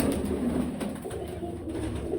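Pigeons coo softly and continuously inside a coop, low rolling calls layered over a faint background hum, with no voices.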